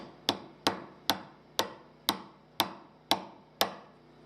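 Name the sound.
part being smacked into place on the bench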